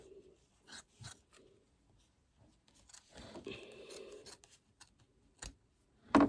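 Small scissors trimming fabric around a machine-embroidered mouse design: quiet, scattered snips and rustles, a few in quick succession, close by in a quiet room.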